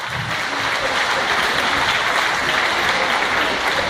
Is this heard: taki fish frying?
no